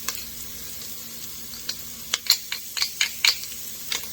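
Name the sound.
stirring sizzling garlic sauce for pizza fries in pan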